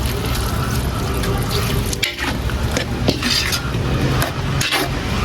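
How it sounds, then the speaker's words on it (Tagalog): Tap water pours into a cooking pot holding sautéed sponge gourd with shrimp, a loud continuous splashing stream with a few brief breaks and clinks as the flow shifts. "Ayan, magdagdag ako ng tubig."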